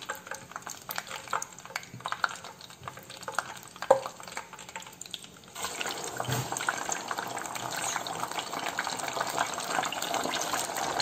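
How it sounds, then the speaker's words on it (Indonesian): Cooking oil is poured into a pan for frying pempek, a quiet clinking start giving way at the midpoint to a steady, louder liquid rush and sizzle that runs on to the end. "Ini minyaknya udah aku siapin,"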